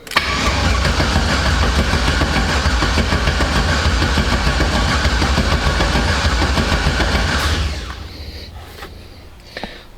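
An engine on a car just fitted with a Holley fuel-injection swap and PATS bypass cranks steadily and loudly for about seven and a half seconds, then cuts off without catching, leaving quiet clicks and faint handling noises.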